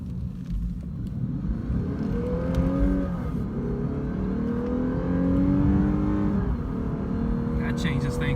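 A Lexus RC350 F Sport engine in Sport Plus mode revs hard and climbs through the gears, its steady rising drone dropping briefly at each quick shift, loud and close throughout.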